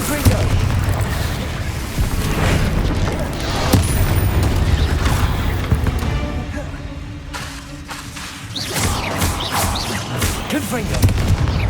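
In Hogwarts Legacy, a Confringo fire spell bursts into a heavy explosion amid repeated booms and combat clatter, loud and sustained through the fight, with a voice briefly heard beneath.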